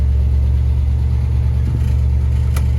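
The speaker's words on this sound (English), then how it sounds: "We're gonna start our 55 Bel Air up here." A 1955 Chevrolet Bel Air engine runs with a steady, loud low rumble, a slight swell near the middle and a sharp click toward the end, with no talking.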